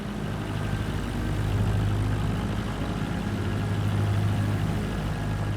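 Small Cessna aircraft taxiing to parking at a farm airstrip in Microsoft Flight Simulator 2024, its engine a steady low droning rumble that holds level throughout with no talk.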